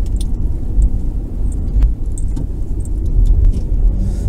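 Car cabin on the move with a steady low road rumble, while a loose door opener rattles and bangs inside the panel-less door in irregular light knocks.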